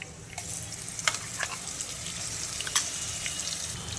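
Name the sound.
onion chili paste frying in oil on medium flame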